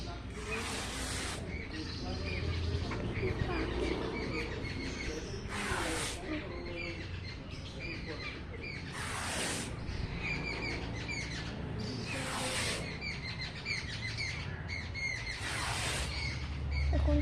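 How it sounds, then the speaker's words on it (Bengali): Many birds call and chirp in repeated bursts over a steady, busy outdoor background while they gather to feed, the calls coming in several loud waves. "অনেক পাখি আওয়াজ করছে"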